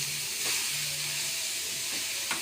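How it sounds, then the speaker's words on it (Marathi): Grated carrot for gajar halwa fries in ghee in a kadhai, a steady, bright sizzling hiss that fills the whole stretch, close and even, with a couple of faint utensil taps and no talking. "तुपामध्ये थोडासा परतून घेऊया"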